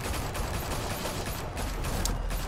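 Heavy, continuous gunfire fills a short moment in Batman: The Telltale Series, a dense rattling volley with no pauses.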